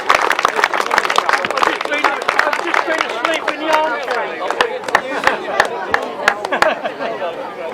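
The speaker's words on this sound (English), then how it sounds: "special round of applause then please for third place Frank Yates" Crowd applause at a grasstrack racing meeting honouring a third-place finisher, a sustained patter of many hands clapping at moderate distance with chatter mixed through it.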